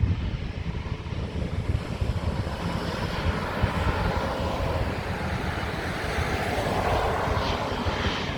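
An Airbus A350 airliner landing at London Heathrow, a steady broadband jet engine roar that holds loud and constant throughout with no voices.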